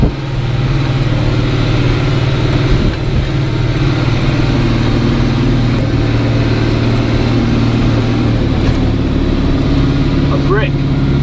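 A classic tractor powers along while chopping grass, its engine droning in a steady mid-pitched hum with a strong tonal throb, continuous and close, with brief clanks and rattles toward the end.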